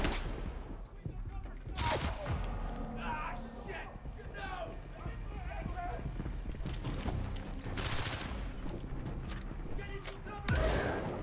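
Dense gunfire in the first-person shooter CrossfireX on Xbox Series S: continuous rattling bursts and sharp shots with a few loud cracks standing out, layered with game effects and someone talking over the fighting.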